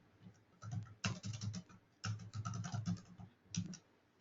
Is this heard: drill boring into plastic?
no